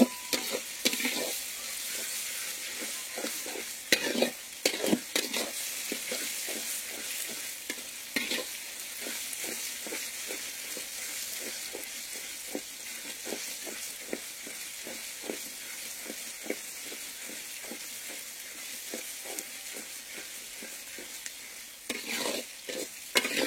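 Spice paste of onion, ginger, garlic and green chilli frying for chicken curry, a continuous soft sizzle broken by repeated spatula scrapes and stirs in the pan, with no talk over it.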